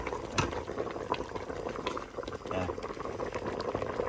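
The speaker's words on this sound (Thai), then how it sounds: "น้ำสุกแล้วครับ" Water bubbles at a rolling boil in a pot while a herb-and-vegetable curry with yanang leaves cooks, a dense continuous gurgle with occasional pops, close and fairly loud.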